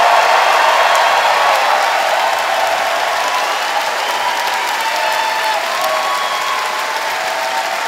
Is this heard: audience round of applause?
yes